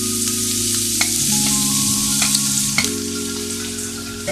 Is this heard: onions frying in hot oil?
yes